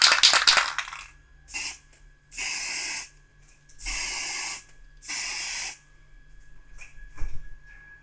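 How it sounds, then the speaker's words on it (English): An aerosol can sprays in four separate hissing bursts onto a Panasonic radio cassette player, each lasting about a second or less, with short pauses between them. It is close and fairly loud. "When I spray from a distance,"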